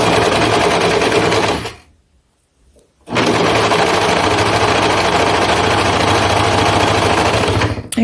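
A serger with a gathering foot stitches fabric in a loud, fast, continuous mechanical whir, stopping completely for about a second before racing on again at full speed.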